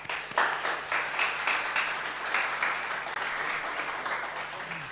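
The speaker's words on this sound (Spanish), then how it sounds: "Le mandamos un aplauso a los que están viendo desde internet." Applause from a live audience in Buenos Aires, a dense, continuous round of clapping heard fairly close and steady for the whole stretch.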